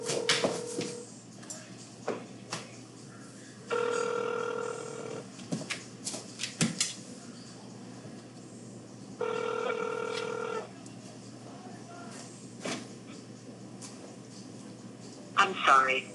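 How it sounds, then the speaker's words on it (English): An outgoing phone call ringing back: repeated electronic ring tones in paired bursts several seconds apart, heard faintly through a line amid light clicks and a person talking nearby. "So, Kim, I'm trying to call you"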